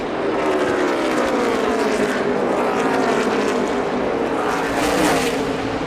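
NASCAR stock cars roar past at full speed on the final lap of the race, a loud, continuous engine drone with shifting pitch as the pack sweeps by, mixed with crowd and track ambience.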